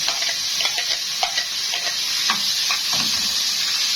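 Chopped tomatoes, green peppers and onion frying in a pan, a steady bright sizzle with scattered crackles and stirring clicks, close and continuous, without talk.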